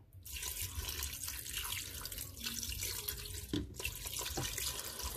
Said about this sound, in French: Je vais rajouter de l'eau à hauteur